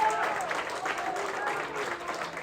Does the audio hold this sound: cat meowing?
no